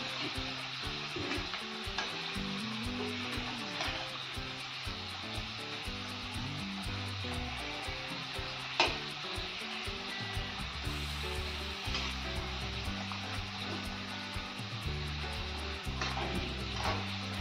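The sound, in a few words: modak frying in oil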